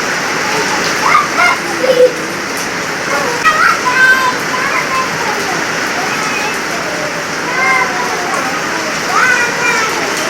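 Steady rain pours onto a surface outdoors, a dense continuous hiss with scattered drips and splashes, fairly loud, while a child's and an adult's voices briefly break in over it.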